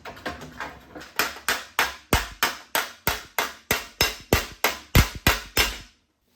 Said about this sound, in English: I'm trying to put my hammer in the low spot